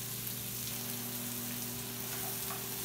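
Seasoned ground turkey fries in a pan with a steady, even sizzle under a low constant hum, close and continuous with no talking.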